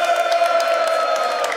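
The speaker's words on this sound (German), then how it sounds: "genau das allein gibt schon einen Applaus" A studio audience at a German football talk show applauds and cheers, a steady wash of clapping with a few whoops over a low hum, with no break in the sound.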